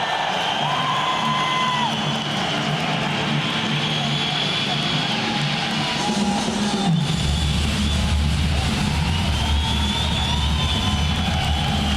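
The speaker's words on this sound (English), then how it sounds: "What a reception from your home crowd." A home crowd roars for the winner at an M-1 Challenge MMA event, a continuous loud swell of cheering and whooping filling the arena while an announcer speaks over it.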